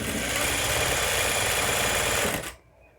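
Sewing machine stitching a fabric strip onto a baby bonnet, a loud steady whir of rapid needle strokes running continuously before stopping abruptly near the end.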